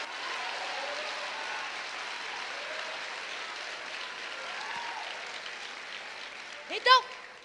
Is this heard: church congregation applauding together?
yes